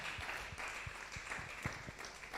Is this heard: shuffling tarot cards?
no